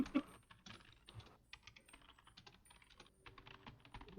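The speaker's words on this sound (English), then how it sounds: "the typing noise was in the game" Soft, rapid clicking of computer keys being typed in a video game, a quick uneven patter of taps with brief pauses, faint and close.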